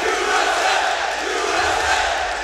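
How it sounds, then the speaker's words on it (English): A large crowd at an esports tournament match chants and roars continuously, a dense wall of voices filling the whole stretch. "the crowd chanting Team USA"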